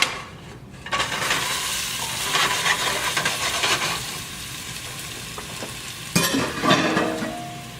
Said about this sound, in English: our oil should be nice and hot now in our pan. We want to go ahead and add those in, okay, and then brown them.